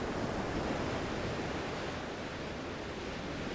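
Sea waves wash onto the shore in a steady, unbroken roar of surf, heard alone with no voices.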